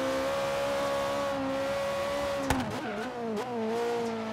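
A BMW i8 fitted with a V8 engine roars in Forza Horizon 3, a loud sustained engine drone that shifts pitch mid-clip with a sharp gear change or bump, then pulls on again.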